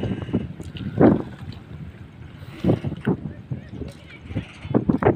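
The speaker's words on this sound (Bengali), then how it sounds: "অনেক বাতাস অনেক ঢেউ।" Strong wind buffets the microphone on a fishing boat on the Jamuna river, with gusty roaring bursts and choppy wave noise rising and falling throughout.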